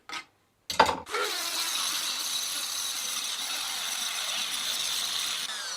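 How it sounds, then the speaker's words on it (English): A grinder cuts a flat into a pressed-in bicycle bottom bracket fastener: two short bursts, then a continuous harsh, bright grinding that runs steadily to the end. "So I'm going to try and grind a flat in this fastener"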